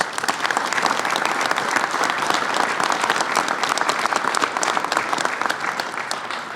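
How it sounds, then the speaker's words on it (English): Sustained round of applause from a large audience honoring families of fentanyl victims at a legislative event, dense steady clapping that holds evenly loud throughout with no speech. "Let's give them a round of applause, please."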